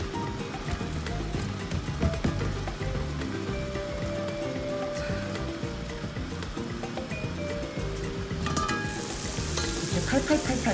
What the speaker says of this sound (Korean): 끓는 소리가 나죠?